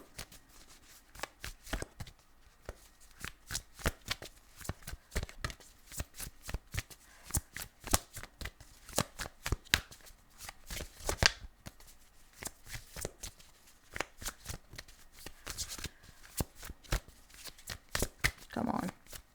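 A deck of tarot cards is shuffled over and over, producing a dense run of crisp riffling bursts and slaps in an uneven rhythm, close and clear throughout with no talking.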